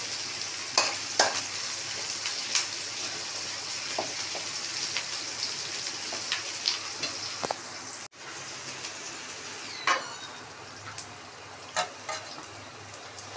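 Green chillies frying in a pan for chilli paneer give a steady close crackling sizzle with scattered sharp pops and stirring scrapes, and a brief dropout partway through.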